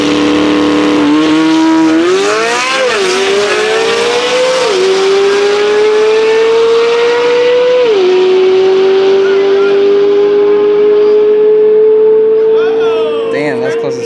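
A Corvette Z06 drag racing a McLaren 600 at a supercar meet: a loud, close engine note climbs steadily through the gears with distinct upshift drops, and a whine carries on to the end.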